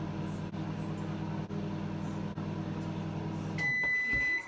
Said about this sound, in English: Put it in your microwave.